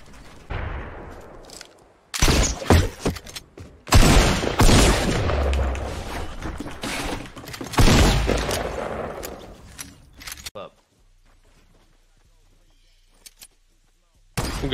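Sniper rifle fire in the video game Fortnite comes as several loud, sharp cracks and booms mixed with excited talk from players over the gameplay.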